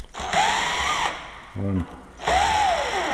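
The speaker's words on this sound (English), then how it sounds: "Let's take the screws out." A power screwdriver whirs in two bursts of roughly a second each, backing screws out of a loose Lockwood unit door lock. A brief ratcheting click sits between the bursts, and a voice speaks briefly.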